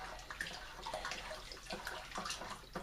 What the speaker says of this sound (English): I'm going to vigorously stir this in